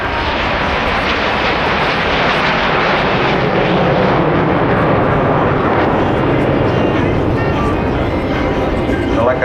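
Fixed-wing display aircraft flying at the Blackpool Airshow, a loud, continuous engine roar filling the whole stretch, with a voice talking over it.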